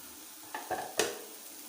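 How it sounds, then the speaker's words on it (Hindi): Onions go into a pan to fry while aloo gobi is cooked, giving a quiet sizzle with a couple of short scraping stirs and one sharp clatter. "दूसरी साइड पर मैंने पैन ले लिया है, जहाँ पर हम प्याज को फ्राई कर लेते हैं"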